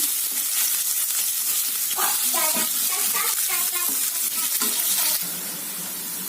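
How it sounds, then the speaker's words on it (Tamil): Onion, dried red chilies and curry leaves sauté in oil with a loud, bright, continuous sizzle and crackle, with scattered stirring clatter, easing slightly near the end. "வெங்காயம் வந்து நல்லா வதங்கட்டுங்க"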